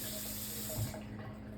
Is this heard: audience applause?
no